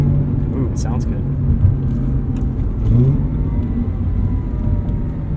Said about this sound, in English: Ooh, it sounds good.